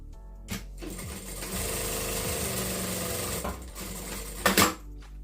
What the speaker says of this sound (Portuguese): Vou costurar aqui no suede.